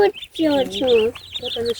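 Chicks and ducks on a village farm give a run of close, high, tonal calls in several rising and falling bursts, with voices talking faintly in the background.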